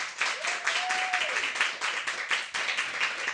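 Studio audience applause greets a Grammy-winning Canadian electronic duo on a talk show, a dense, steady patter of many hands clapping close by, with a brief tonal sweep passing over it.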